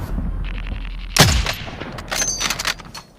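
Video game gunfire during a multiplayer shooter match, a sharp loud shot with a falling tail followed by a ragged burst of several quicker shots, close and punchy, with no voices over it.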